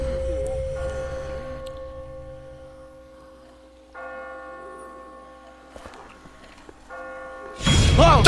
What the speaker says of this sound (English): I just got spooked by those bells